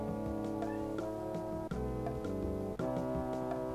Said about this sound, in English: That very soft meowing is Zelda